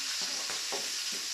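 Green chillies sautéing in a pan for besan sambar give a steady close sizzle, with a few soft stirring scrapes breaking through the frying hiss.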